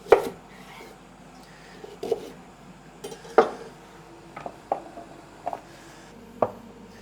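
A knife chops parsnip on a board in a home kitchen during winter vegetable prep: about eight sharp, separate cuts at an uneven pace, close and clear over a quiet room.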